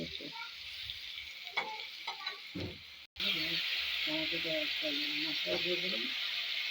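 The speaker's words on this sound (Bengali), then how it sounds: "একটু হালকা লাল করে ভেজে নেবো ভেজে তারপর" Pieces fry in oil in a pan, lightly browning for a Katla fish curry with potatoes. A steady sizzle runs under a person's talk in the first half, then continues with stirring.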